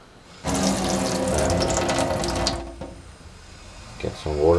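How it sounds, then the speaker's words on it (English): Water gushes from a kitchen tap into a sink, a loud steady splashing rush that cuts off after about two seconds, followed by faint clinks and a short spoken word. "I will turn on the crane"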